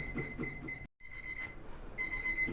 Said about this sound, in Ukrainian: Таймер наш закінчився, ми ставили його на 30 хвилин